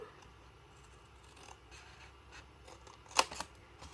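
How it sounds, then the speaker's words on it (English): Scissors cutting small rectangles out of card for a flip-lid box, faint snipping and paper rustle that builds to a couple of crisp, louder snips near the end. "these two little rectangles, we don't need those. So we're going to cut those out completely."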